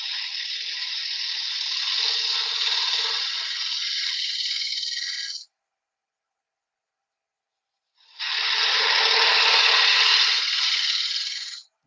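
A lathe hollows out a wooden conker with a steady hissing, scraping cut that runs for about five seconds. After a brief silence a second, slightly louder cutting pass follows.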